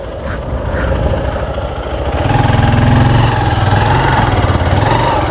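A motorbike engine running near the microphone as the bike is being parked, a steady loud mechanical drone that swells into a stronger throb partway through, with no talk.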